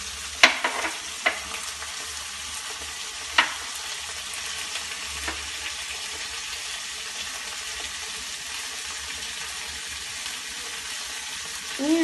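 Fish roe stir-fry with coconut is stirred in a pan, sizzling steadily, with a few sharp spoon-on-pan knocks early on and scattered scraping afterward.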